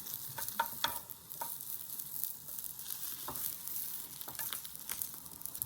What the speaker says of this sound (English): Add 1/3 of the egg mixture to the pan and spread it out in a thin layer.